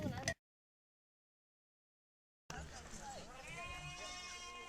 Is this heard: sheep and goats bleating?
yes